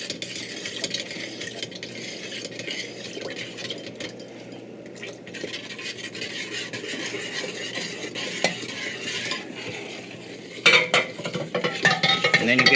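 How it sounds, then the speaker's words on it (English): A hand blender mixes lye into soap batter for a luxury hair and body bar, giving a steady close whirring and churning that runs throughout, with a few louder clattering bumps near the end. "you're going to just sit there with your hand blender, and you're going to mix it as you add your lye."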